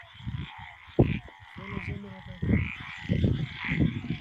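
Frogs croak in low, throaty bursts during night camping on a mountain, close and fairly quiet, with soft voices and rustling around them.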